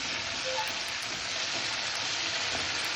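Masala browns in a pan for mixed vegetables, producing a continuous, even sizzle up close, moderately loud and unbroken, with no voices.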